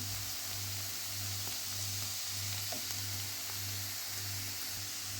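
Mushrooms and onion fry gently in a pan, giving a soft, steady hiss over a low pulsing hum.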